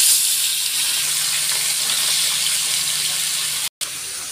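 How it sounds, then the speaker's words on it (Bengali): Chopped onion and green chili fry in hot oil in a pan, giving a steady, close, broadband sizzle that holds evenly with no voices, then drops out for a brief instant before returning. "পেঁয়াজ কাঁচা লঙ্কা তেলের উপর ভালো করে ভেজে নিচ্ছি।"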